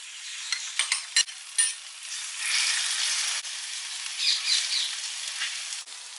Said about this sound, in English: Here I have the prawns on the raclette grill, and I'm just going to quickly grill these on here